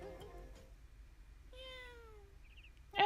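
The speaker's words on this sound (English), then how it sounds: "What woke me up was not the alarm that's set for 7 a.m., but the sound of a cat." A single drawn-out cat meow in a video game, a falling harmonic cry near the middle of the clip, after some faint earlier rustle and before an abrupt loud sound at the end.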